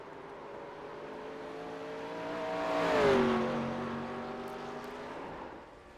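Vintage 1987 Cup race cars, led by a Ford Thunderbird, roar past at Watkins Glen in iRacing, a single loud engine drone rising to a close pass with a falling pitch sweep, then fading as it pulls away.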